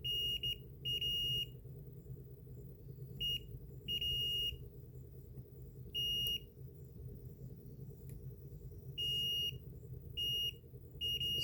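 A Bose 5-disc CD changer gives a series of short electronic beeps as its latch is pushed down, irregularly spaced bursts over a low steady hum in a quiet room.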